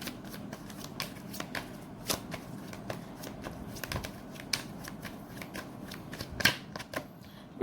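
Tarot cards are shuffled in repeated sharp riffling bursts, each followed by soft slides and taps as cards are drawn and laid down. The sound is close and moderately quiet, with no talking over it.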